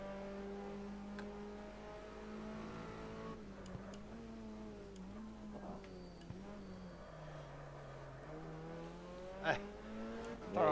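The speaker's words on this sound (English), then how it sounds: "Fast car approaching." A race car engine in a racing video game drones steadily with shifting pitch as a fast car approaches and passes, loud and continuous, with brief radio-style voices over it.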